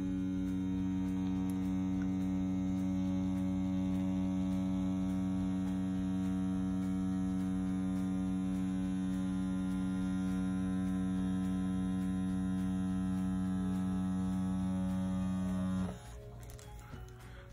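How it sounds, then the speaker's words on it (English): A Bronc V10 tattoo machine runs steadily while tattooing, a constant loud electric hum with strong harmonic buzz that cuts off near the end, leaving a quieter background. "let you all kind of hear the tattoo machine as I'm actually tattooing the tattoo here in action"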